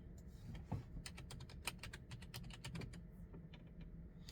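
Keys clatter on a computer keyboard in quick irregular bursts of close, crisp taps over a quiet room, with no talking.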